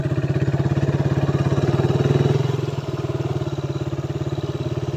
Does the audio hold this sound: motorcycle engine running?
yes